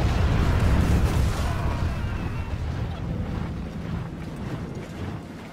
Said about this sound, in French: les contingents commencent à subir les tirs de l'artillerie de rempart